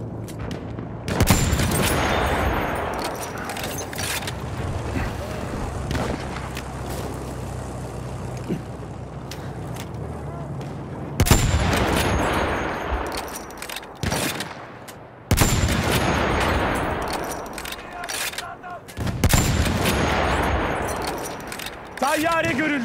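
Battlefield 1 combat with loud machine gun bursts and scattered gunshots and booms, several intense stretches broken by short pauses, while in-game voices talk over the fighting.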